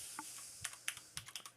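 Keystrokes on a computer keyboard while Python code is typed, about a dozen separate close clicks in an uneven, quick rhythm with no talking.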